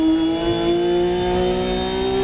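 A Porsche rally car in Dirt Rally 2.0 holds a loud, steady high engine drone with strong tonal harmonics, revving slightly as the pitch climbs, with no speech over it.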